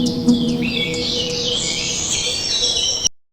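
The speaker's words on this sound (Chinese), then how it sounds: "我们先输入这个鸟叫的声音，" Synthetic bird calls generated by MMAudio for a scene with many birds: several chirps and tweets overlap in a steady, bright chorus for about three seconds before cutting off abruptly.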